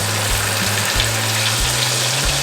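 A thick ribeye steak sears in butter in a hot pan, giving a loud, steady sizzle and crackle throughout with a few faint knocks and scrapes.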